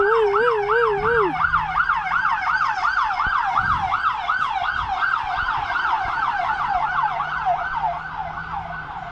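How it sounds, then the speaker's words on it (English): An ambulance siren wails continuously in a rapid rising-and-falling pattern, loud and steady, with a vehicle engine rumbling underneath. "That was just ambulance"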